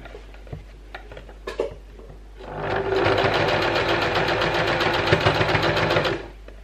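A sewing machine stitches a seam on a DIY fabric contour face mask, a few light clicks and handling sounds first, then a steady, loud rapid whirring run for about three and a half seconds before stopping.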